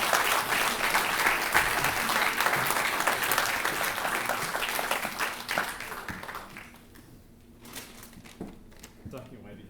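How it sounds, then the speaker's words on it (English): An audience at the end of a lecture claps in a full round of applause, dense and loud at first, then thinning into scattered claps and fading out, with some voices and rustling underneath. "Round of applause."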